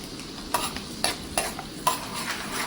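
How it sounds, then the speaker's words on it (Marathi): Peanuts frying in hot oil give a steady close sizzle, broken by a few sharp scraping clicks of a spoon stirring them in the pan. "शेंगदाणे थोडे हलके होईपर्यंत तेलामध्ये तळून घ्यायचे."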